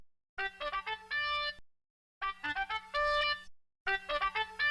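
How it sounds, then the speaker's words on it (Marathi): A phone rings with a melodic electronic ringtone: three short bursts of bright tonal notes separated by silent gaps, clear and moderately quiet, with no voices. "तुझे कान नाही, फोन वाजतोय."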